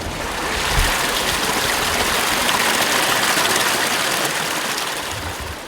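A waterfall pours into a creek, a loud, steady rushing roar of water heard up close outdoors, unbroken for several seconds with no talking.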